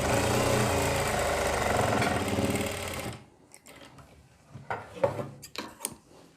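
A sewing machine stitches an invisible zip into the back of a kurti. The motor runs loud and steady for about three seconds, then stops, leaving scattered soft clicks and fabric handling.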